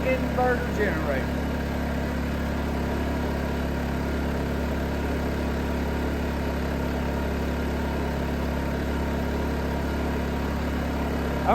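Steady low drone of a running Predator 2500 inverter generator, close and even throughout, with a brief faint chirping sound near the start.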